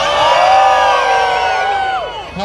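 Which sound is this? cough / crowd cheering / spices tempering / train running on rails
crowd cheering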